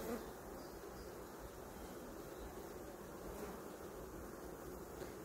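A dense, populous honeybee colony drones steadily at an open hive during a swarm inspection, a continuous close buzz with no talking.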